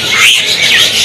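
A white starling (jalak putih), one of a pair of caged birds, sings in bright, rising and falling whistled phrases over a steady hiss of background noise.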